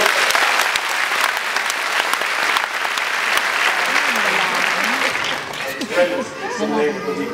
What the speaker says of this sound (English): Give Lakin a big round of applause.